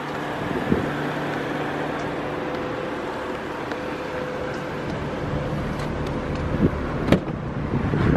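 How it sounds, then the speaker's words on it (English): A 2009 BMW 328i Coupe idles with a steady, even engine hum, moderately close and unchanging throughout, with a few faint clicks and taps on top. "The car's running right now."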